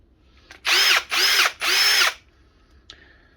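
A Ryobi brushless hammer drill runs in three short, loud bursts of whirring, each about half a second, close by, followed by a faint click.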